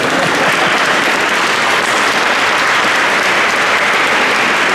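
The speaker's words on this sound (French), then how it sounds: "Oui, on peut applaudir." A church congregation at an Ascension Day service applauds, a dense, loud, continuous wash of clapping from many people that holds steady throughout, with no distinct voices.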